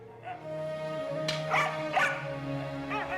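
A dog barks a few times at close range in a domestic scene from a Pakistani TV drama, short sharp yips over background music and a low hum.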